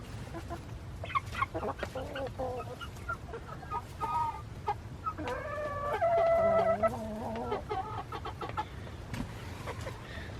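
Barred Rock and Black Copper Marans chickens cluck and call close by, a steady run of hen clucks with a longer drawn-out squawking call in the middle over a low background hum.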